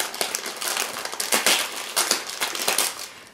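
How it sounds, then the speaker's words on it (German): Silver foil wrapping paper being torn and crumpled off a package, sharp crinkling bursts and crackles coming in irregular rushes, loud and close, without any speech. "Also erstmal ist das alles total schick in so Silberpapier eingepackt."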